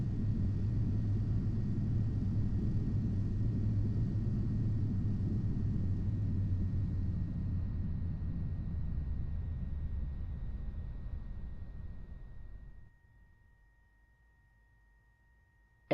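A simulated commercial airliner in Flight Simulator X rolls down the runway during an emergency-procedures lesson, a steady low rumble that gradually winds down and drops away to near silence at the end.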